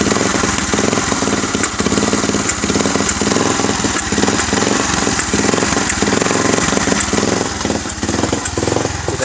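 Close and loud, a Yamaha Vixion motorcycle engine runs hot with a dirty fuel pump as the throttle is blipped. It sputters unevenly with a rough, choppy beat and frequent hesitations.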